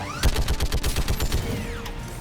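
Rapid automatic gunfire in Mass Effect 3 rattles off as a burst of about ten evenly spaced shots, loud and close, followed by a brief whining tail with no one talking.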